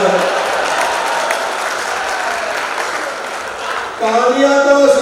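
An audience at a Hindi comedy poetry gathering claps in a sustained, dense burst of applause, and a voice begins speaking over it in the last second.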